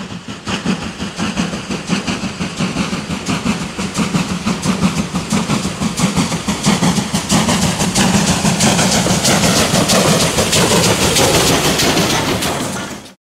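A German WWII Class 52 Kriegslok steam locomotive hauling coal wagons near Tuzla rumbles past loud and close, with steady rhythmic chuffing and clattering wheels that build over about thirteen seconds before cutting off abruptly.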